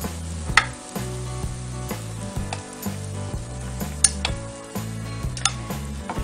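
A Léa Nature organic pancake-style waffle heats in a hot pan, giving a steady loud sizzle broken by repeated knocks and scrapes of a utensil against the pan, with no talking.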